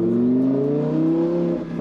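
A Lamborghini Huracan engine revs loudly on downshifts, its harmonic tones sweeping steadily upward and sustained close up, then briefly dipping near the end.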